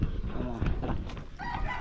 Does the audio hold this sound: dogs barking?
no